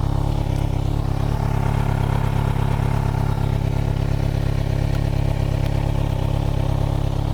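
A warmed-up Kawasaki Z1000 SX motorbike engine idling steadily, a constant low rumble with light mechanical clatter, close and unbroken with no talking.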